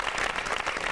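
An audience at a Hindi poetry show bursts into loud, sustained applause, a dense burst of many hands clapping together.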